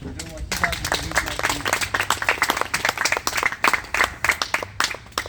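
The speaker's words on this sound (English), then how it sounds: "big round of applause real quick for Devin for doing what he does with" Audience applause starting after a brief voice, growing into loud, fairly rhythmic clapping with distinct hand claps close by.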